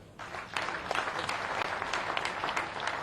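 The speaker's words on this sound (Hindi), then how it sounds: "तालियां बजा के स्वागत।" A crowd at a political rally breaks into applause to welcome a figure, and the dense clapping starts within the first second and keeps going steadily and loudly to the end.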